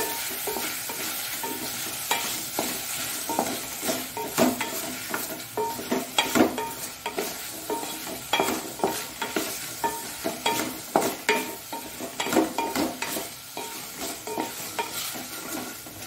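Prawn gravy being stirred in a pan just after a spoonful of ghee goes in, a steady sizzle with repeated scraping strokes of the spoon throughout, close and fairly loud, no voices.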